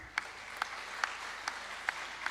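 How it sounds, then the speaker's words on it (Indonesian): Scattered light clapping at a graduation ceremony, five or six single claps spaced evenly apart over a soft room hum, thin and distant rather than a full ovation; no one speaks. "Tepuk tangan."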